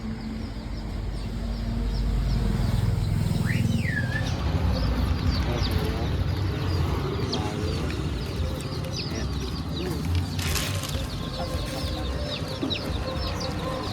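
Chickens on a poultry farm cluck and chirp continuously, many birds close by, with a steady low rumble of activity underneath and occasional sharper calls rising above the flock.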